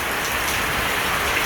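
Steady, dense rain pours down in Angeles City in the Philippines, a loud, even hiss of countless drops spattering on surfaces, close and constant with no pauses.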